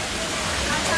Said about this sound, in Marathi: पक्का धबधबा वाहते छान.